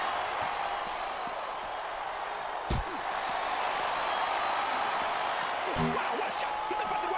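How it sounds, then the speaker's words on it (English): Arena crowd roaring steadily in the WWE SmackDown vs Raw 2007 wrestling game, a constant broad wash of cheering with two heavy slams cutting through, while commentators talk over it. "I think the crowd's giving these superstars a piece of the mind, King."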